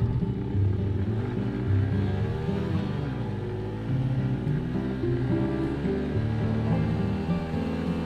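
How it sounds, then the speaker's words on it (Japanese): A PC20 motorcycle fitted with a big carburetor accelerates hard toward 60 km/h, its engine note rising through the gears as a loud, steady, close roar that holds for the whole stretch. "ビッグキャブをつけて PC20 ですね。 なんとなくセッティング終わったんですけど、60キロまで何秒かちょっと測ってみたいと思いますね。"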